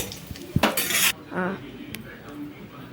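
Spices tipped into a hot pan for frying, landing with a loud clattering scrape and brief burst of noise, followed by softer clinks and a faint sizzle.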